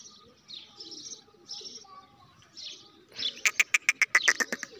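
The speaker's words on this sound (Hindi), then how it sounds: "ये आ रहे हैं कबूतर, देखो" Soft bird calls and coos, then a close burst of rapid rhythmic wing flapping as pigeons come in to land.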